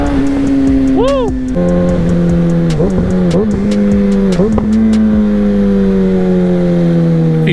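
Motorcycle engine revving and downshifting, with rising and falling exhaust tones, blips between gears and a few pops, loud and close throughout, with a voice heard at moments.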